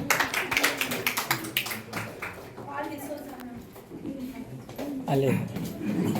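An audience at a health camp event claps in a brief burst of sharp hand claps, then the applause fades under someone speaking to the crowd.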